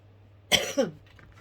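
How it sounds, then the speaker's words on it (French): Two quick, close coughs in a row, the second slightly softer, against a quiet background hum. "J'ai soif, en fait, ça me fait tousser."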